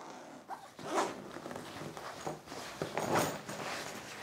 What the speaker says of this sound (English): So you see the middle zipper here.